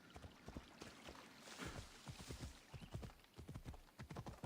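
Horse hooves clip-clop in a steady, brisk rhythm as a mount sets off in Assassin's Creed Odyssey, the footfalls fairly close and moderately loud over soft ambient game sound.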